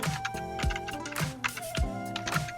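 Fingers tapping keys on a computer keyboard, a quick uneven run of crisp clicks up close in a quiet room.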